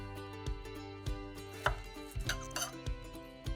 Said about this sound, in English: some strawberries. We'll just cut them in half.